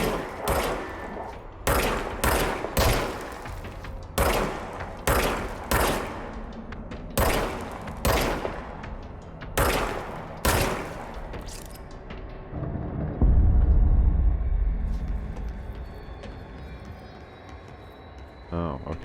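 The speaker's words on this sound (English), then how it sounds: "Okay, now I have a gun." Loud bursts of gunfire from the video game Control fire in a rapid, irregular series, then a heavy rumbling impact and a quieter stretch. A voice speaks over part of it.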